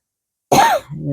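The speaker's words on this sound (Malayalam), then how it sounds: "എൻ്റെ ഇടയ്ക്ക് ചുമയുണ്ട്" A single short, rough cough bursts out after silence, followed by a faint low hum.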